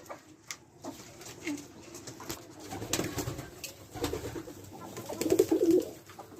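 Turtle doves coo softly in a nesting spot strewn with straw, low repeated calls building toward a clearer close run of coos near the end, with light rustling and no talk.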